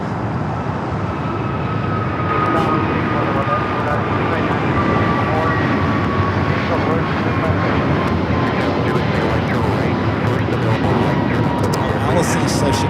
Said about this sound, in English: We do have a Delta A330-300 coming in from JFK, flight 747 at next heavy arrival here on the south.